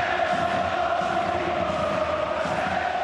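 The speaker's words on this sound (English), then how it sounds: "This crowd is loving it." A football stadium crowd at Sevilla's Sanchez Pizjuan during a match against Real Madrid, a continuous distant roar of thousands of fans with chanting tones sustained throughout.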